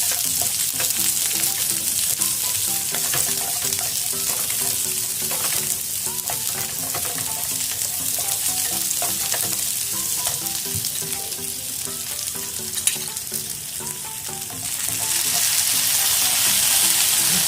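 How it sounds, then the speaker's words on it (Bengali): Chopped onions fry in a hot pan with a loud, continuous sizzle and occasional stirring scrapes, steady from start to finish. "এটা অল্প ভাজা হবে।"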